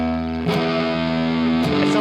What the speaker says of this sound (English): technically this is like a distortion, but it's really more of a fuzz